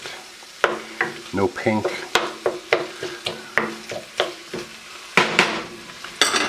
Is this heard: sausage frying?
yes